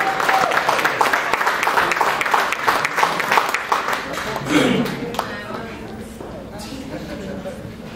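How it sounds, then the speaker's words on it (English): An audience applauds loudly at a business networking event, dense clapping filling the first five seconds before thinning into scattered claps under low murmuring and a voice. "Give him a big, big round of applause."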